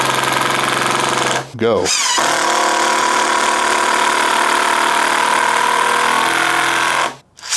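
A Makita XGT cordless driver drives small fasteners in two bursts, a buzzing whirr with impact rattle that stops briefly between runs, while a voice speaks once.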